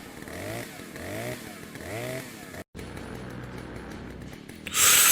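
A chainsaw in the horror game Shadow of Leatherface, revving in repeated rising buzzing pulses, then a brief silent cut followed by a lower steady engine drone and a loud noisy burst at the end.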